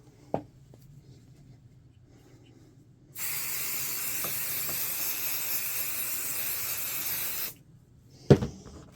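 Spray adhesive hisses from an aerosol can in one steady, close burst of about four seconds, used while making a throwback hockey jersey, with faint handling clicks before and after.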